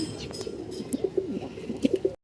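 Red-eyed pigeons coo in a clear series of short, pulsing notes, several distinct rolling calls close by, with a few wing rustles and light background noise before an abrupt cutoff.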